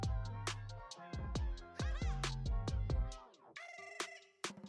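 A phone rings with an incoming call, a melodic ringtone of bright repeating tones playing alone and fairly clearly for several seconds before cutting off.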